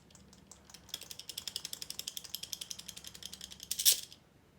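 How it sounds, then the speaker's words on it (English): A Gearwrench locking flex-head ratchet, its head unlocked and flopping loosely, gives a rapid run of some twenty sharp clicks that builds steadily, ending in a louder clack near the close. No voice is heard. "it comes unlocked and the flex head pops open and it flops around"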